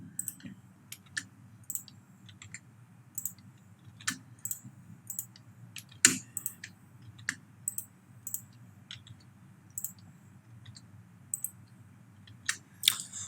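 Computer mouse clicks sound while pasting cells in an Excel spreadsheet: scattered, sharp, quiet clicks in an irregular rhythm, close up, with no talking.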